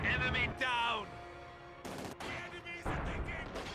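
Machine gun fire in a strategy video game, coming as short, quiet bursts of rapid shots separated by gaps, with commentary talk in between.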